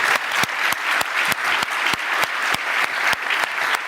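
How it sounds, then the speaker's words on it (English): Steady applause from a crowd, dense and continuous clapping with a few sharper individual claps standing out. "a round of applause for my 3 panelists"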